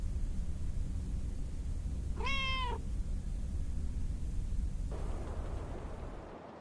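A single cat gives one rising-and-falling meow in the middle of a steady low background hum, moderately close and brief, with no talk.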